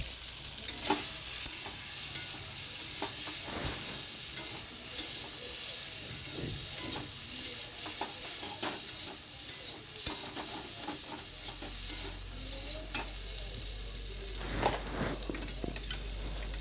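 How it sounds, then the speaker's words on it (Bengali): Spices and chili powder stir-fry in a pan for a Bengali home-cooked dish, giving a steady sizzling hiss with scraping stirring strokes, close and moderately loud with no talk. "এবার ভালো করে কষিয়ে নেওয়ার পালা।"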